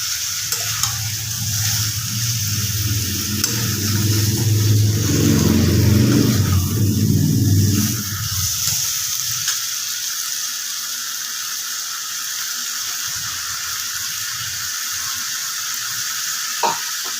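Chicken masala sizzles loudly in a pan just after water goes in, a dense hissing fry with stirring that swells over the first eight seconds, then settles into a softer steady simmer.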